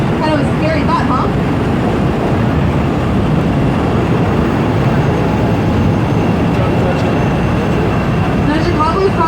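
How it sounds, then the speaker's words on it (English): Continuous low rumbling and clatter of a Chicago subway train rolling past overhead, steady and loud throughout, with faint voices mixed in. "right now there's a train above us"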